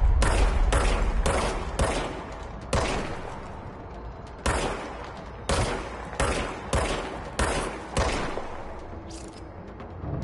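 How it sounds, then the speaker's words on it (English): Gunfire in the video game Control cracks out in repeated sharp shots, single and in short bursts, loud and close with reverberant tails and no talking. "now I have a gun."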